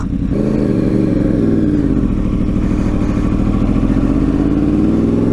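A Yamaha R1 RN22 sport motorcycle engine runs loud and close, a steady rough roar with slight rises in pitch, continuous throughout.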